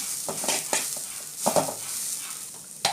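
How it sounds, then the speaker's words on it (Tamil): Grated coconut and chopped banana stem are sautéed in a pan over a soft sizzle, with a spatula scraping and stirring in several distinct strokes, close and moderately quiet. "தேங்காய் போட்டதுக்கப்புறம் ஒன்று கூட நல்லா தேங்காய் வந்து சூடாகிற அளவுக்கு நம்ம நல்லா வதக்கி விட்டுடலாம்"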